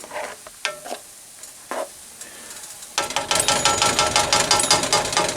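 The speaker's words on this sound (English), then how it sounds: "I wanted to scrape up some of that stuff from the bottom before I did that" A stew pot with dark beer is scraped and stirred vigorously, a steady close scratching and bubbling sizzle that starts abruptly after a few quieter knocks and clatters.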